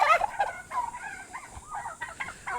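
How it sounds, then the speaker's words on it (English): Several turkeys gobble close by in quick, warbling bursts that overlap and continue throughout, with no talking. "I'm being followed by turkeys."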